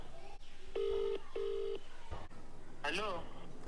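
Telephone keypad dial tones, two long steady beeps in a row, sound close and clear, followed by a person speaking.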